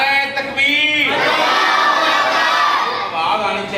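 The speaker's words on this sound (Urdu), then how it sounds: "نعرہ تکبیر" A large crowd at a religious gathering roars a takbir response in unison, a loud sustained collective shout that swells after a brief lead-in voice and holds for several seconds.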